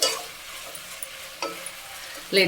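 Steady sizzling of ingredients deep-frying in hot oil for kharabath, with faint stirring scrapes and a brief spoon clink near the end.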